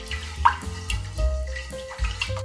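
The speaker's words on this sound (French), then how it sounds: "Bien évidemment, venir laver plusieurs fois jusqu'à ce que l'eau soit transparente." A cup of rice being washed in water several times, with swishing, dripping water and small clattering splashes, close and continuous with no talk.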